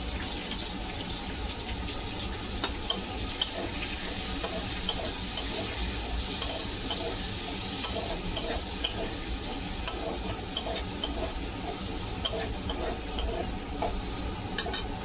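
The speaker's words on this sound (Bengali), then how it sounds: "প্রথমে আমি পেঁয়াজগুলো ভেজে দিচ্ছি।" Onions fry for a chicken peyaji gravy in a pan, giving a soft, steady sizzle with scattered scraping and clicking stirring strokes, all fairly quiet and continuous.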